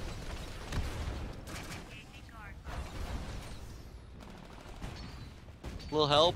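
Titanfall game gunfire with mechanical clanks and bursts through a short combat stretch, mid-level and mixed with a player talking briefly.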